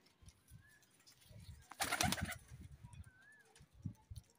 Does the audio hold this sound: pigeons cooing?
yes